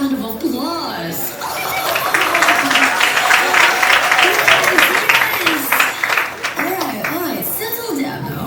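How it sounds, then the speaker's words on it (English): A theatre audience at a fan musical production claps loudly and steadily, with scattered laughter and cheering voices mixed in and a speaker's voice heard over the start and end. "Everybody, give me a round of applause."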